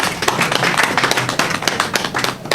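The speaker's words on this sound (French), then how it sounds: "Je voudrais que toute l'assistance les applaudisse." An assembled audience applauds company staff, loud dense clapping from many hands forming a continuous close ovation that keeps steady throughout.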